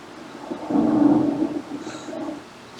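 Thunder rumbles low and deep in a scene from a Matrix film, swelling for about a second before fading into a dull roll, with a faint higher tone drifting in near the end.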